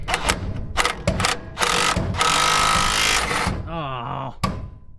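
An impact wrench rattles in short bursts and then a sustained loud hammering run on a socket tack-welded to a control arm bolt of a 1959 Plymouth, close by, with someone talking around it.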